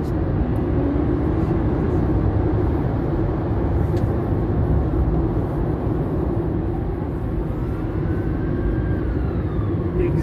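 An electric Skoda Citigo accelerates in deep winter, its motor giving a thin rising whine over heavy, steady road and cabin rumble for the whole stretch, with no talk.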